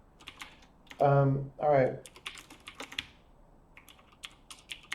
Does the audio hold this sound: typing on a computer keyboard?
yes